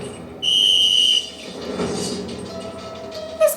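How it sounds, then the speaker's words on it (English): A shrill whistle blown by a child in a zombie drama scene gives one steady blast of under a second, followed by a rumbling background and a short faint tonal squeak. "This kid just blew a whistle."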